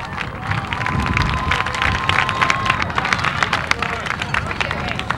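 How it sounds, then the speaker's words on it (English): A crowd at a high school football game applauds and cheers, a dense, steady patter of clapping mixed with crowd babble and shouts. "Please join us in applauding their efforts and those of the coaches and the officials"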